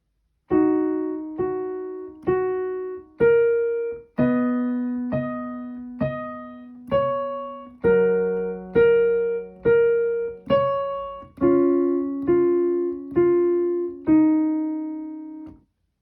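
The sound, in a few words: piano played slowly, hands together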